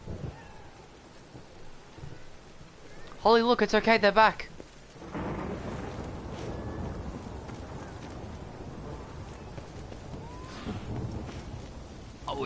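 A thunderstorm in The Witcher 3: Wild Hunt, with low rumbling thunder, wind and rain noise under a woman's short spoken line and a burst of game music partway through.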